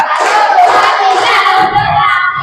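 Schoolchildren in a classroom clap together in a counted one-two-three rhythm, a dense, loud burst of many hands with crowd noise, steady for a couple of seconds.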